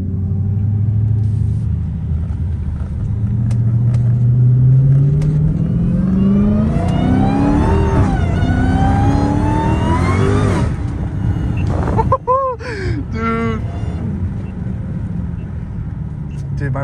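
Dodge Challenger Hellcat Redeye accelerating hard from inside the car, its supercharger whine climbing steadily in pitch over a loud engine roar, with voices talking over it, then a brief break before the sound resumes.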